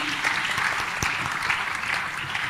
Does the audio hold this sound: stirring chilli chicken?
no